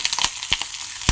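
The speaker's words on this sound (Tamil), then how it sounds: "இந்த மாதிரி வதக்கிடணும் வெங்காயம்" Onions and curry leaves sautéing in a kadai for cauliflower sambar, heard as a close, bright sizzle broken by a few sharp clicks and scrapes of stirring over a brief moment.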